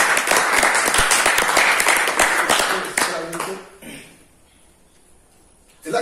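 A church congregation claps and applauds loudly for about three seconds, then the clapping thins out and fades to quiet, with voices briefly heard as it ends.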